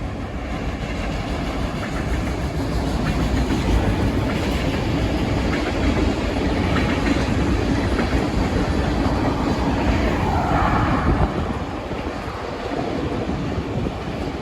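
A Norfolk Southern freight train with a Penn Central heritage locomotive rolls by near Huntingburg, Indiana, giving a loud, steady rumble of wheels and clattering cars, with wind buffeting the microphone.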